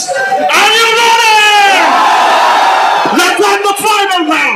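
A crowd at a robot combat event roars and yells together in a loud, sustained wave of cheering, with a brief surge of whoops near the end.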